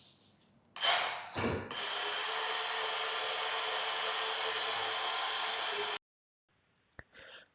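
White paint mixed with water for a mist coat by a power mixer, giving a loud steady whirring drone for several seconds after two short bursts, then cutting off into near silence and a single knock.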